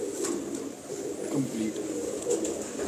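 Rampuri pigeons coo softly and steadily in a loft, their low murmuring running beneath men chatting close by.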